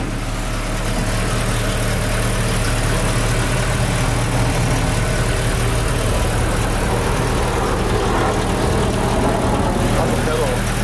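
A Datsun 510 sits idling with new Wilwood front big brakes fitted, its engine giving a steady, loud low rumble throughout, close by and unbroken.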